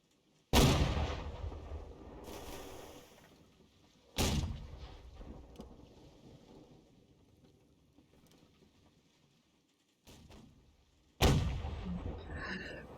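Cannon fire in the naval battle game Holdfast during a gunner league match: four heavy booms spaced several seconds apart, each rolling off into a long, fading rumble, with no talking.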